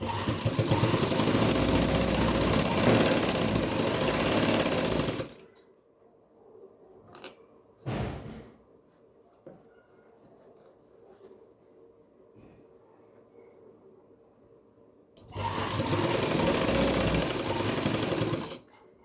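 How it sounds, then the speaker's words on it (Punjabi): A sewing machine stitches an invisible zipper onto a shirt, running loud and steady for about five seconds, falling quiet with a brief whirr, then starting up again near the end. "ਇਹਦੇ ਕੋਨੇ ਤੇ ਸਲਾਈ ਲਾਉਣੀ ਹੈ ਪਹਿਲਾਂ ਠੀਕ ਆ ਜਿਹੜੀ ਆਪਾਂ ਪੱਟੀ ਜੋੜੀ ਹੈ ਉਸ ਦੇ ਕੋਨੇ ਤੇ ਲਾਉਣੀ ਹੈ ਸਲਾਈ"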